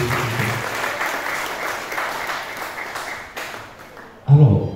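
A church congregation at a Sunday service acclaims the Lord with sustained applause and crowd noise, ending in a louder burst of clapping and cheering.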